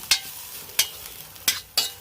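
Cumin seeds frying in a pan are stirred in four separate scraping strokes, each a short gritty sizzle over a soft steady crackle, close and fairly loud, with no talking.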